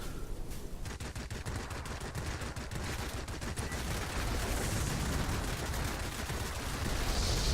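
Rapid bursts of aircraft cannon and machine-gun fire from Soviet Ilyushin IL-8 or IL-10 attack planes strafing a gun emplacement in World of Warplanes, dense crackling volleys over steady engine roar, growing louder toward the end.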